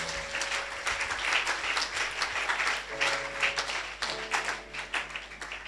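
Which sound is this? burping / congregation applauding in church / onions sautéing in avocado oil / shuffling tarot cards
congregation applauding in church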